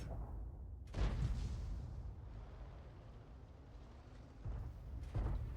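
Artillery gun in a tank video game, the M53/M55 and Bat.-Châtillon 155 55, firing rounds: a few deep booms with rumbling tails, moderately distant and alone.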